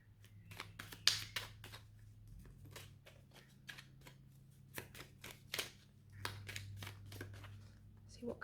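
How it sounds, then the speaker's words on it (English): Tarot cards are shuffled by hand in a series of quick papery riffles and soft slaps, close and fairly quiet, with a low hum underneath and no talking. "I'm just going to shuffle some tarot cards"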